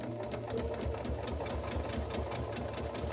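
A sewing machine runs steadily while back-stitching a seam on a porch goose costume, a fast, even mechanical chatter close to the microphone.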